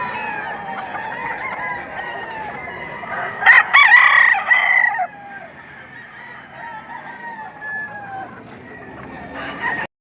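Roosters crow loudly and chickens cluck nearby at a livestock market in Padre Garcia, Batangas, with one strong crow rising over a steady layer of clucking and calling.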